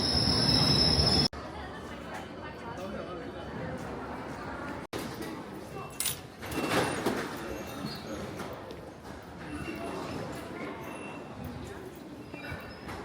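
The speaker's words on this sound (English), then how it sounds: "train now approaching is to Ealing Broadway" A London Underground train bound for Ealing Broadway rumbles into a station at night with metallic wheel squeal and echoing platform noise, while an announcement speaks over it.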